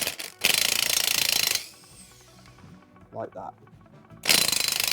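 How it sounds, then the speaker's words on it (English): An impact wrench hammers off a 17mm nut on a Citroën Picasso suspension in two loud, rapid rattling bursts. A quiet gap lies between them, where someone briefly speaks. "I'm going to use the T50 to counter hold the bolt and my impact to whiz the nut off."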